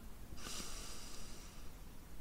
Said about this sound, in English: Switch nostrils, breathe out.